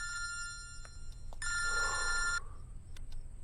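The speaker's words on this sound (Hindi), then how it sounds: "फोन उठा, मेरा फोन उठा।" A telephone bell rings in short bursts in a tense Hindi-dubbed war film scene, the electronic ring clear and fairly close with quiet room tone between rings.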